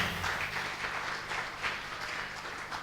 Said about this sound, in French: Acclamez très fort pour notre sœur, pour son témoignage.